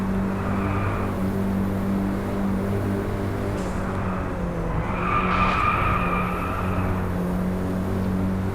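Car tires squeal and skid through a handbrake turn in the Driveclub racing video game, over a constant loud engine drone, with the screech swelling midway.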